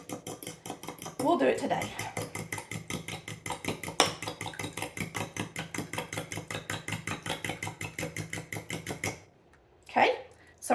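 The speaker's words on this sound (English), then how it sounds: "4 eggs. I'm going to beat them up with a fork just a little bit." A fork beats four eggs in a bowl with fast, steady rhythmic clicking against the bowl for several seconds, then stops; a person speaks briefly over it.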